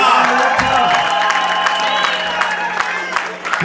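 At a Congolese wedding reception, a crowd of guests applauds and cheers for the groom, steady loud clapping mixed with shouts and whoops over background music, close and continuous.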